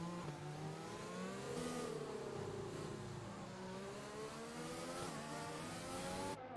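Formula 1 cars in F1 2020 at the Brazilian Grand Prix, closing laps of a league race: a steady, faint high engine whine with shifting pitch as cars run close together, no talk heard.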